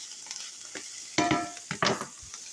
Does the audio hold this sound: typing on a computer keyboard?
no